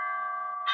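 A bell rings at the top of the hour, sustained tones ringing steadily at moderate volume with a brighter strike near the end, no talking over it.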